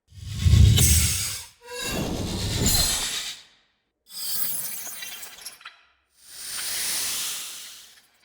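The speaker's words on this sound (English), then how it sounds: "Really like the sizzle on the end of the high layer." Layered magic spell-strike sound effect from a sorcery collection: four separate bursts with gaps between them, the first booming with a deep low thump, the later ones bright, crackling and hissing, ending in a sustained high sizzle that fades out.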